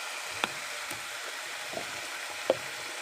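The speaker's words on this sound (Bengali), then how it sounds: "এটাকে এখন ভালো করে ভাজবো।" Chopped tomato with salt frying in a pan for a chickpea ghugni, a steady soft sizzle throughout with a few sharp spoon taps against the pan.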